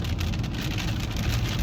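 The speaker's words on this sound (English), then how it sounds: "And here we go with the rain again." Steady rain falls outside, a continuous dense hiss with low rumble underneath, close and fairly loud throughout, with no voices.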